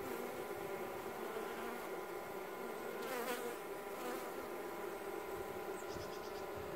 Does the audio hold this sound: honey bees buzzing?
yes